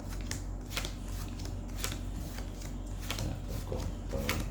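Playing cards being dealt onto a table into two piles for a card trick, a run of soft, close snaps and slides at an uneven pace over a steady low background hum.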